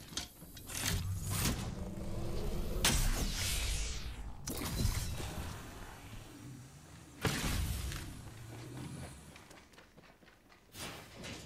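Mechanical clanks, sliding metal and sharp impacts as a care package opens in Apex Legends, several loud bursts spaced across the clip amid other game noise.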